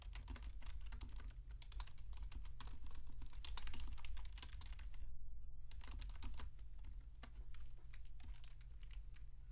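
Rapid typing on a computer keyboard while writing C# console code, a dense stream of close clicky keystrokes with short pauses, over a low steady background hum.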